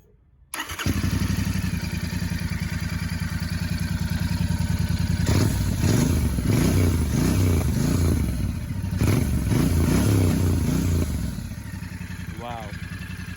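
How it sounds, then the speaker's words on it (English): A Royal Enfield Bear 650 motorcycle cranks and fires up, settling into a loud, steady twin-cylinder idle close by, with a few throttle blips adding deeper pulsing bursts before it returns to idle. "I'm gonna turn on this motorcycle and just gonna do an exhaust note for you guys."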